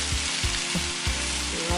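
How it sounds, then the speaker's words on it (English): Vegetables sauté in oil in a skillet, giving a steady broadband sizzle with a few soft spoon scrapes and stirring knocks over the short stretch, with no talking. "just sauteing these vegetables in some oil"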